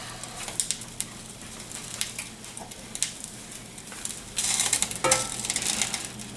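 Butter and olive oil heating in a pan on an induction cooktop, a soft crackling sizzle with light clinks and scrapes of a utensil, growing louder near the end.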